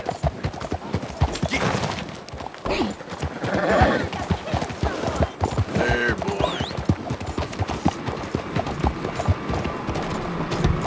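Horse hooves clop repeatedly at close range and a horse whinnies midway in Red Dead Redemption 2, while someone speaks briefly over the sounds.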